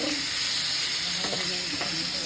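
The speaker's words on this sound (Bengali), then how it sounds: "এবার পটল ভাজা ভাজি হবে" Pointed gourd (potol) frying in a pan gives a steady, close sizzle with a few soft stirring scrapes partway through, no voices over it.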